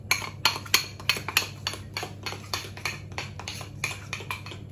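Metal tongs stir in a pot, making a steady run of sharp, close clinks and scrapes in a quiet kitchen.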